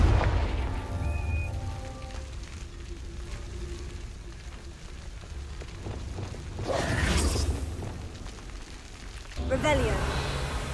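A Confringo blasting spell goes off in a Harry Potter–style video game, a booming burst with crackling debris that swells around the middle and hits again sharply near the end, over continuous game ambience.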